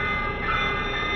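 A Polar Bear Express test train of rehabilitated old Alaska Railroad cars rolling past close by, a steady loud rumble of wheels and carriages with a tonal ring on top, heard alone.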